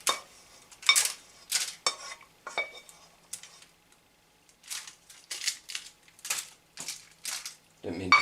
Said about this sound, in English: I'm just going to sort of spread those around and pat it all down to make it sort of into a firm mess